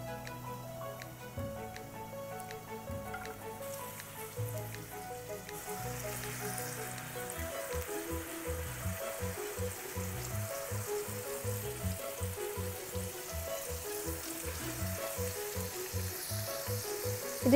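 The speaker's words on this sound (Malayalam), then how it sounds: "ഈ ചിക്കൻ അതിലേക്ക് ഇട്ട് കൊടുക്കാം." Marinated chicken legs dropped into a tablespoon of hot oil, hissing in a steady close sizzle with bubbling crackle that grows denser after the pieces go in; no talking.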